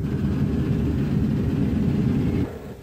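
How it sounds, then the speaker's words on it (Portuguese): An airliner touching down on a runway during a flight-simulator approach to Zurich airport: a loud, steady engine roar holds throughout, then drops away sharply near the end, with no talking. "A pista vai se aproximando, vai crescendo e dá até aquela apreensão que se tem quando o avião toca o solo."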